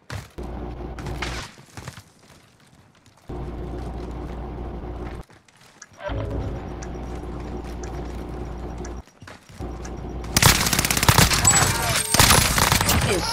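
Bursts of rifle and automatic fire from M1 Garand and AS44 gameplay come in dense volleys broken by short silences, with a louder, harsher stretch of shooting near the end.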